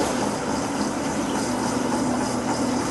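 A metallography polishing machine spins a specimen with a steady, dense whirring hum and grinding hiss, continuous and close throughout.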